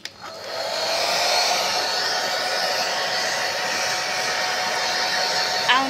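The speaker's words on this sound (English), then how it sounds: "now we use a hair dryer to dry the water on the photo" A hair dryer blows steadily and loudly on a wet photo, a continuous close whoosh running for several seconds with no talk.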